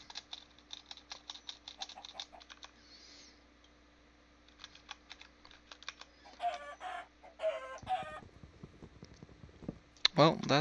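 Chicken clucking in the Minecraft modpack Skyfactory 4, a run of short game clucks and squawks over a steady low hum, with a few louder bursts toward the end under faint talk.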